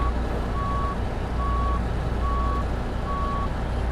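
Steady, evenly spaced reversing beeps from a truck backing up in American Truck Simulator, four clear tones over a constant low engine rumble, with no talking.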